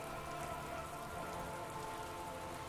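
Steady rain in the video game Disco Elysium, a dense even patter of drops falling on surfaces, continuous and unbroken with no voices.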